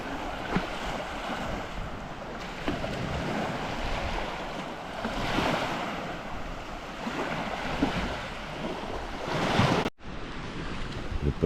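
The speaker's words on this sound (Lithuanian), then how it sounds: "Kokia rami jūra" Calm sea waves wash steadily onto a beach at Šventoji on the Baltic coast, a continuous soft surf roar mixed with gusty wind buffeting the microphone. No voices are heard.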